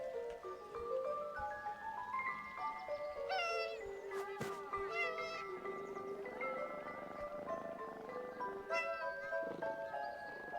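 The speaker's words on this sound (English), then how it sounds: "I couldn't believe Kurt still had that cat." A cat in the video game 11-11: Memories Retold meows softly several times over gentle background game music.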